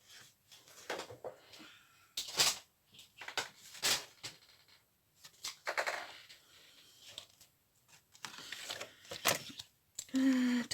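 Scissors snip through a scrap of paper being trimmed to size for a road book, coming as a series of short, sharp, irregular cuts with quiet gaps between them, fairly close.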